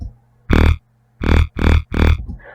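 Four loud, gritty bursts of asymmetrical wave shaper distortion on a synth, the first alone and then three in quick succession, harsh and buzzy, with no talking.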